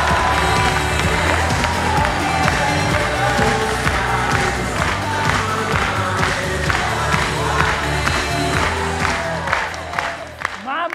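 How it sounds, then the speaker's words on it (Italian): A crowd at a summer camp animators' presentation cheers and applauds to welcome a guest onstage, a sustained, lively mix of clapping and shouts with voices rising through it. "Accogliamo con un applauso Leonardo!"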